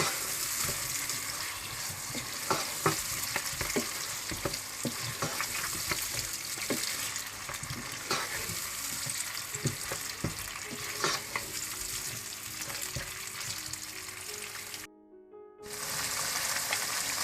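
Continuous sizzling of mutton frying in a pan, with repeated scraping and stirring strokes throughout; a brief dropout near the end.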